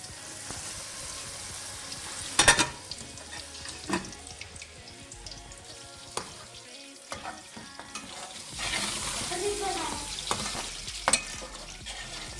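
Chicken with okra sizzles steadily in a hot pan as yogurt water cooks off, while a utensil stirs and scrapes, with a few sharp clinks and a louder burst of frying later.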